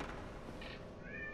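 A cat gives a short, faint meow over a low background hum, one brief rising cry near the end of the moment.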